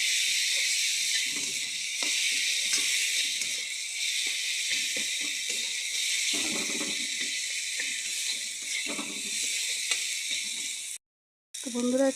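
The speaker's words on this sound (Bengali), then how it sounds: "গুঁড়োটাকে ভালো মতন কষায় নেব" Chili powder and turmeric powder fry in a pan for a brinjal and prawn curry, making a steady close sizzle with scattered stirring scrapes, a brief gap near the end, and no speech.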